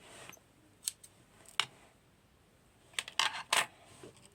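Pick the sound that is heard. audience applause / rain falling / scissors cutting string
scissors cutting string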